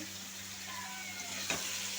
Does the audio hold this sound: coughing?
no